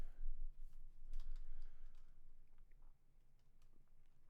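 Keys clatter quietly on a computer keyboard as a command is typed, a soft rapid patter that fades slightly toward the end with no talking.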